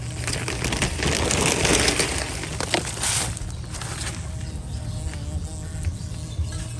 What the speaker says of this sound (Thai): มีพึ่งมาบินรอบๆตัวด้วยเพื่อน ๆ ไม่รู้มีรังพึ่งอยู่แถวนี้หรือเปล่า